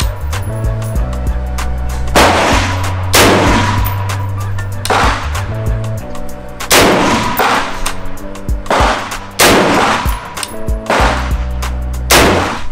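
Rifle firing 300 Blackout Hornady ammunition at a shooting range, about a dozen loud sharp shots spaced roughly a second apart, each with a short ringing decay.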